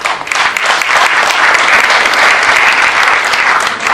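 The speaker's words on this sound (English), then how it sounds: "you should give yourself a super round of applause" A large audience at an AMMA Foundation debate event applauds loudly, with dense, continuous clapping that holds steady for several seconds and has no voices over it.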